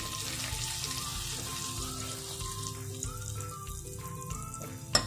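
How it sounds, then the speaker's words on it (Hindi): Flour fries in oil for a sauce, a soft, steady sizzle with light bubbling and occasional stirring clicks, close by and alone, ending with a sharper knock. "मैदे को अच्छी तरह से ऑयल में हम भून लेंगे थोड़ी देर।"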